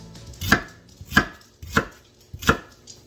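Four crisp knife chops land on a cutting board at an even, unhurried pace while a small white onion is cut up, each strike clear and close.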